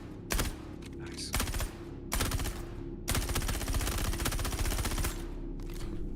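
Automatic gunfire from a player-versus-player video game rattles in several bursts, with long sustained sprays broken by short pauses, loud and close with faint background game noise between the volleys.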